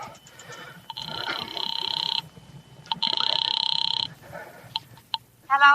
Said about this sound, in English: I went to the phone booth and called my sister Lil